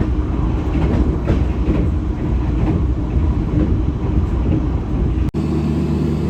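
The Blambangan Ekspres passenger train pulling into Tegal station, heard as a loud, steady rumble of wheels and carriages with faint clatter, ending in a sudden brief break and shift in tone.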